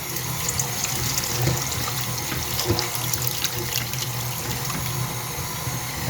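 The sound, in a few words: pouring chili meat cooking liquid through a strainer into a bowl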